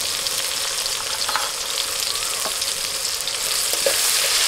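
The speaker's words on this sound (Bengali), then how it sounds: "এবার টমেটোগুলো একটু ভেজে নেবো" Tomatoes frying in oil in a pan with a pinch of salt, a steady, even sizzle close by with faint occasional scrapes and no voices.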